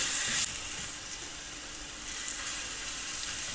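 A steady, hissing sizzle of garlic ginger paste frying in a pan, even and continuous, close by with no voices.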